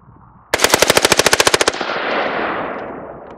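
An AR-15 rifle with a bump fire stock rattles off a rapid burst of about fifteen loud, evenly spaced shots, followed by a lingering echoing tail outdoors.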